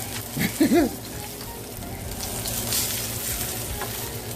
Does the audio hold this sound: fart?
no